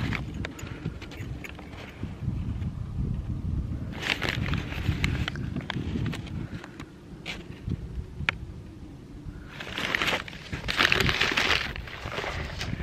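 Wrapping is pulled off glass Christmas ornaments taken from storage unit boxes, giving continuous close crinkling, rustling and crushing of paper, with brighter crackling bursts toward the end.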